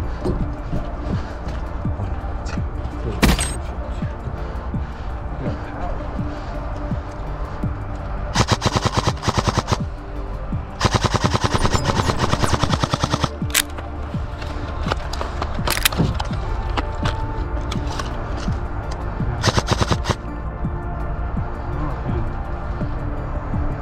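Airsoft guns, including an upgraded SSR4, fire rapid bursts and single cracks during an outdoor woods skirmish, with sharp bursts repeating throughout and players shouting and talking over the shooting.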